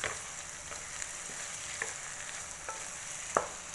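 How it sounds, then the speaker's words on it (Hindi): Potatoes, eggs and chopped green chillies fry gently in a pan over a low flame, making a soft continuous sizzle with occasional light clicks and one sharper tap of a stirring utensil. "इसको अभी हम थोड़ा फ्राई होने देंगे लो फ्लेम पे।"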